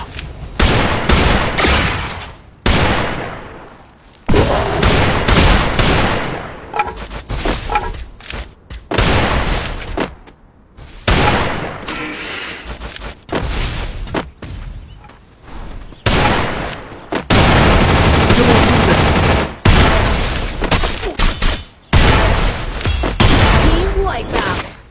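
Desert Eagle pistol gunfire in the video game Free Fire, with loud, repeated bursts of shots and booms in uneven clusters separated by short gaps, and voices talking between them.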